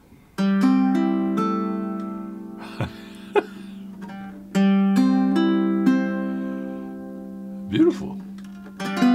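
A custom Pahu Kani ukulele fitted with six strings is strummed and picked in two short passages of ringing chords, close and clear, with a brief laugh and some movement noise between the phrases.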